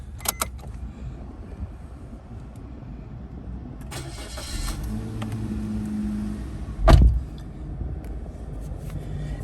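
Keys jingle at the ignition of a 2017 Suzuki Ignis GL hatchback, followed by rustling and a short starter crank that catches into a loud start, settling into a quiet idle inside the cabin.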